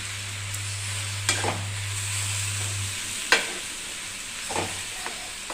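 Tomato chutney frying in a pan as coriander powder is stirred in, with a continuous soft sizzle, a low hum and a few sharp spoon scrapes, close by and with no talking.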